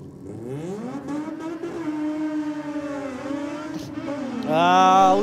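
A rotary-engined race car accelerates hard down a drag strip, its high, buzzing engine note climbing through the gears in rising sweeps, loud and close, ending in a sharp, piercing scream.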